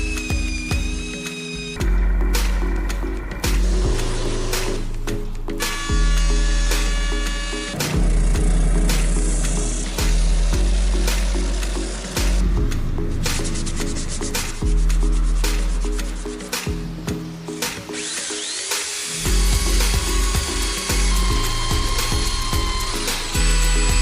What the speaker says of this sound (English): drill out all the cavities, and then clean them up with a router